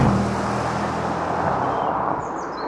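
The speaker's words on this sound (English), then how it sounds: "if you look at the flyby sound" A Mercedes-AMG E63S sweeps past in a loud flyby, its broad engine roar holding steady and then fading slightly as it moves away, with no talk.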